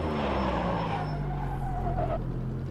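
Race car tires squealing at the edge of grip in the Automobilista 2 racing game, a strained sliding whine over steady engine drone, fairly close and continuous, with a rising squeal near the end.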